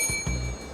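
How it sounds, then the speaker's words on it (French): A short, bright ring like a school bell, with a sustained shimmering tone over a couple of low knocks, lasting under a second. "on fait comme à l'école, on sonne la cloche"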